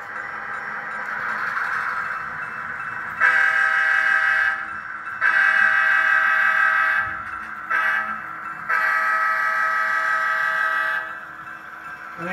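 A model train's horn blares in several long, loud blasts separated by short gaps, over a low rumbling of the running model locomotive pulling gondola cars.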